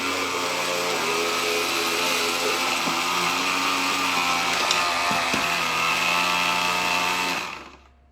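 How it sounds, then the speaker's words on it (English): An Oster blender chops slaw in a steady, loud motor whir with strained grinding that holds for about seven seconds, then winds down and stops at the end. "This blender is very finicky anyway."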